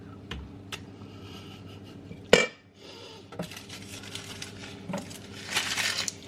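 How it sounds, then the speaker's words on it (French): Dishes being washed in a home kitchen: scattered clinks and clatters of pots and cutlery, one sharp loud knock midway, then softer rattling and running water toward the end. "je vais faire ma vaisselle, ça va peut-être me détendre et me calmer un peu"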